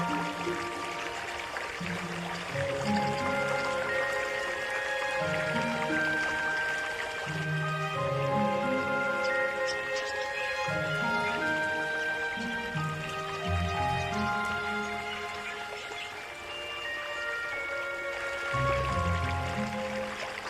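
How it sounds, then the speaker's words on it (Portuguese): Fresh streams bubble through an African wild landscape, with running water trickling and gurgling steadily alongside bright tonal sounds, sustained and continuous for about twenty seconds with no speech. "Aqui, os frescos riachos borbulham pela paisagem."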